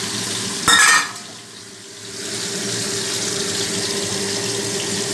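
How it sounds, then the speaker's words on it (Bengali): Fish frying in a pan makes a steady hiss and sizzle that fills the clip, close and even, briefly broken near the start by a louder splash of noise before settling back. "আর এদিকে মাছ দিয়েছি ভাজতে"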